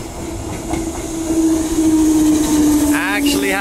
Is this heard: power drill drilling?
no